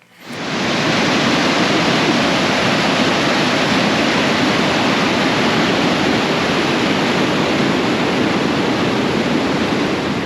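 Steady roaring rush of river rapids and waterfalls along a hiking trail in an Ontario provincial park, a dense continuous wash of water with no voices.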